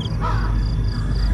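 Crow cawing as a sound effect in a Telugu horror story, a loud close caw followed by a steady run of harsh repeated calls.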